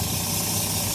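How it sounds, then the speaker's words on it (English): Exhauster brake on a Volvo B12M Plaxton Panther bus, a loud, steady broadband hiss close by with a low engine rumble beneath, continuous and unbroken. "Apparently, it's something to do with the exhauster brake."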